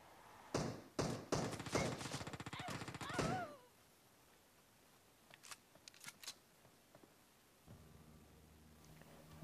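Rapid automatic gunfire in the mobile battle-royale game PUBG Mobile, a dense burst of close shots followed by scattered single shots and clicks, with quieter game sounds after.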